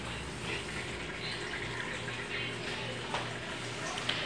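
A washing machine fills with water at its high level setting, a steady, close rushing and splashing stream that runs without a break, with faint background voices underneath.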